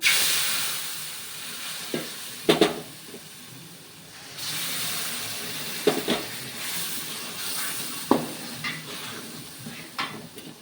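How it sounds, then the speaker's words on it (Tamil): Steady hissing and sizzling as boiling water is poured into a pan of cooking asoka batter, with occasional splashes and stirring clatter; no voices. "கொதிக்கி வச்சுருக்க வெந்நீரை எடுத்து சேர்த்துங்க"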